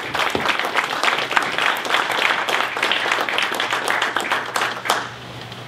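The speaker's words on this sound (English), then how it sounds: "let's clap one more time for Sergeant Lowe" Audience applause at a US Air Force master sergeant's retirement ceremony, a dense, steady wash of many hands clapping that holds for several seconds and thins out near the end.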